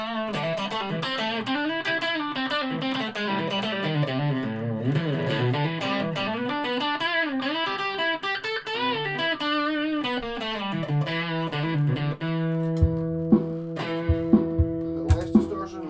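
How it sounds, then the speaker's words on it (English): A Yamaha Pacifica 112 electric guitar on its bridge humbucker plays a fluid distorted lead line, then settles into sustained ringing chords with sharp picked accents, loud and close. "a wee bit of distortion on."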